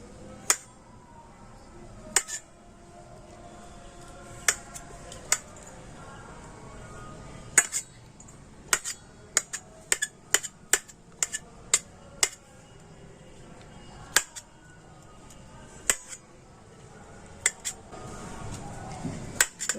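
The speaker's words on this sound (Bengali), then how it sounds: "এখন আমি ফুলকপিটা এই ছোটো টুকরো করে কেটে নেবো" Boiled cauliflower being chopped into small pieces with a knife, sharp irregular clicks of the blade striking the board over a quiet background, some taps in quick clusters and others spaced apart.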